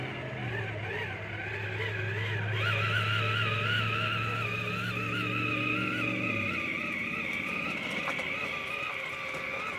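A Traxxas TRX4 Sport 4x4 RC crawler with a Castle motor and Mamba X controller runs outdoors in grass. Its motor gives a continuous close electric whine with wavering pitch, and a low tone drops away partway through.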